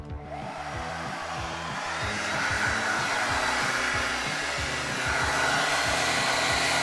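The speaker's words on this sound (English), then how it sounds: "now I'm gonna show you the hairdryer method in action" A hair dryer blows steadily up close onto a video game sticker, a continuous whooshing roar with a pulsing motor hum that grows slightly louder partway through.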